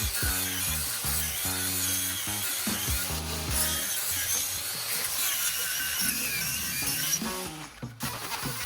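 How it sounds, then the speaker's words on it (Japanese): An angle grinder sands an old wooden bedroom ceiling beam, a loud close whining drone with pulsing, wavering pitch as the disc bites into the wood, running steadily without speech. "これでグラインダーかけてみよう。"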